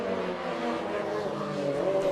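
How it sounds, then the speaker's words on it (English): Naturally aspirated rallycross race cars on a mixed dirt and tarmac circuit at the 2013 Global Rallycross Championship in Charlotte, engines droning and revving at a distance, a steady tonal whine that rises slightly near the end. "And you can hear the cars here, these engines, they're naturally aspirated"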